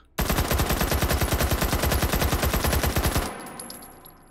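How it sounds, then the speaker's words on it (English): A rapid automatic burst from a firearm in Hot Dogs, Horseshoes & Hand Grenades VR, loud close shots in a steady fast rhythm lasting about three seconds before cutting off into a short echoing tail. "Release the bolt."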